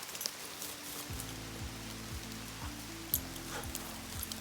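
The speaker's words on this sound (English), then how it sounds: "we are still hanging out under our tree and waiting for the rain to stop" Rain falls steadily as a soft, even hiss in Sunol Regional Park while hikers shelter under a tree, with a low droning tone underneath and a couple of brief louder spatters.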